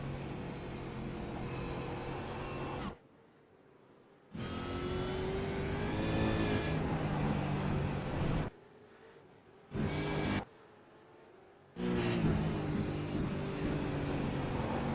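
Supercar engines in an Australasian Supercars racing video game scream through a lap of Oran Park Raceway, revving up and down through gear changes, with abrupt cuts to near silence between stretches of loud engine noise.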